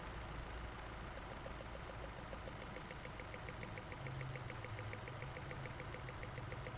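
A Nissan Altima engine idles with a misfiring cylinder, a faint low steady rumble with slight irregular knocks, no voices.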